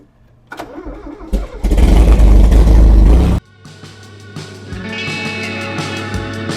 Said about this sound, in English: You just got to give it a little gas and crank it